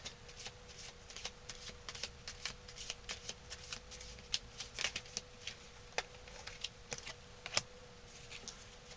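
Tarot cards are shuffled and drawn close up in quiet, with rapid riffling flutters and sharp card snaps repeating throughout.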